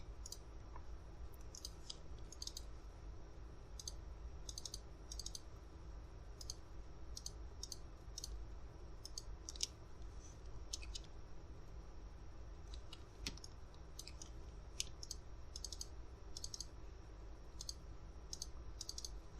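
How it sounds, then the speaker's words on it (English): Steady, quick mouse clicks at a computer, many crisp double clicks repeated in loose rhythm over a low background hum, close and quiet, with no talking. "I'm just holding Shift and double clicking"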